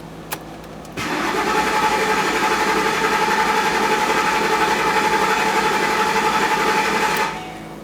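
A Ford Expedition engine cranking with its fuel pump relay pulled, the starter whirring loud and steady for about six seconds without catching, then cutting off abruptly.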